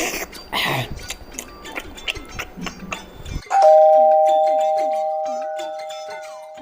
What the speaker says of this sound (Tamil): யாரா இருக்கும் இப்படி விடாம பெல்லடிக்கிறாங்களே